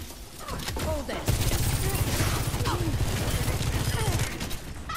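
Rifle gunfire in the Overwatch beta: a steady, rapid stream of shots over about five seconds, heavier after the first second, with game effect sounds scattered through it.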